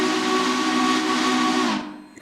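A deep, hissing steam whistle from a large Pacific steam locomotive in a train simulator game sounds one long chordal blast, loud and close, then cuts off and fades within about two seconds.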